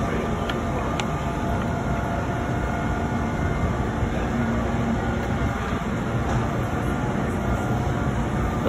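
An Amtrak train rumbles at a station with a steady, continuous roar and hum, loud and close throughout.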